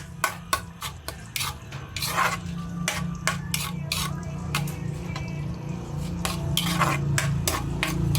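Onions go into a hot kawali, a Filipino frying pan, starting with a few sharp clanks of the utensil on the pan and then settling into a steady sizzle with repeated scraping stirs, close and moderately loud.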